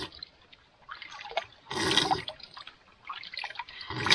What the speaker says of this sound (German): Und deswegen werde ich schon wieder diesen kalten Fluss trinken.